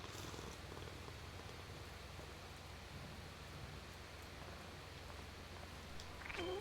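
A cat purrs in Hades 2, a soft, steady, continuous rumble that stays faint throughout, with a brief brighter sound near the end.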